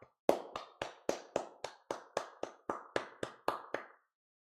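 Sharp hand claps repeated at a brisk, even pace as a microphone check, about thirteen distinct smacks close to the mic with short decays between them, no talking.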